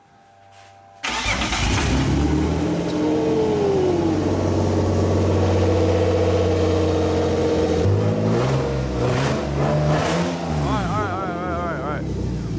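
A BMW E30's engine catches at about one second after its first start and then runs steadily and loudly close by, with a low rumble and some revving. A voice talks over the running engine near the end.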